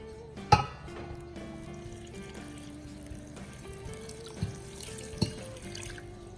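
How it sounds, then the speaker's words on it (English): Liquid is poured into a bowl of flour and yeast for calzone dough, a soft, close splashing pour that opens with a sharp splash and continues gently over faint tonal background music, without speech. "now we're gonna dump our liquid into our dry ingredients"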